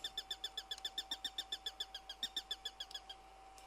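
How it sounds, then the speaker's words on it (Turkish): A bird call in the survival video game RigorZ repeats rapidly in a steady rhythm of short chirps, about five per second, over a faint constant tone and quiet background. "Ne biçim kuş sesi var la öyle."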